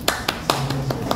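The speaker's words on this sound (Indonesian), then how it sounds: "tepuk tangan" Applause at the opening of a student leadership training for a university student organization, heard as a handful of sharp, evenly spaced claps in a quick rhythm over a low room murmur.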